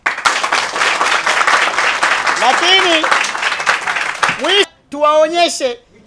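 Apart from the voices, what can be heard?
audience applauding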